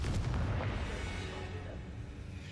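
A Confringo blasting spell explodes in Hogwarts Legacy, a sharp booming burst at the start that fades into a low rumbling tail, fairly faint overall.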